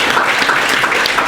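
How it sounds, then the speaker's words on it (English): Dense, loud applause fills a startup networking event in Cape Town as an audience stands to welcome a speaker, a continuous wash of many hands clapping, up close. "so you guys stand and give a massive clap to Nic Haralambous."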